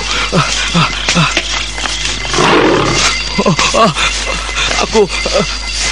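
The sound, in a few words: tiger roaring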